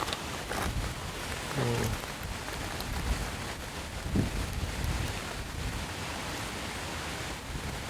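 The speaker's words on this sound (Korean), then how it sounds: "바람 소리 세죠?" Strong wind at a fishing pond buffets the microphone in a constant rough roar, with brief faint voices breaking through once or twice.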